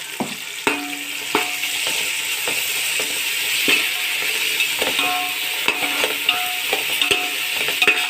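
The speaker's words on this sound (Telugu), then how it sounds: "ఇప్పుడు దీన్ని మనం ఫ్రై చేసుకుందాం. ఇప్పుడు మనం అల్లం వెల్లిపాయ పేస్ట్ ఇందులో వేసుకుందాం." Chicken fries with ginger garlic paste in a pan, a continuous close sizzle broken by frequent sharp clicks and taps of a spoon stirring against the pan.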